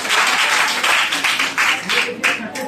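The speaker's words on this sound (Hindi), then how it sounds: "जोरदार ताली होनी चाहिए" A crowd at a Shankargarh venue program bursts into loud applause, clapping in uneven swells that rise and fade across the moment, with some voices mixed in.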